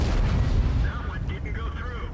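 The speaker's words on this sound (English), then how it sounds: "The M103 didn't like that rock and decided that he wanted to shoot the rock." A heavy M103 tank cannon in World of Tanks fires into a rock, giving a loud, deep boom that rolls off into rumbling decay, with a voice talking over the tail.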